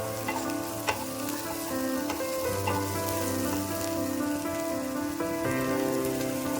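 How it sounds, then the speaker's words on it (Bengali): Salted onions fry in a pan until lightly browned, making a loud, steady sizzle like rain on a surface, with occasional soft clicks of stirring and no talk. "পেঁয়াজটা হালকা ব্রাউন হওয়া পর্যন্ত ভাজতে থাকবেন।"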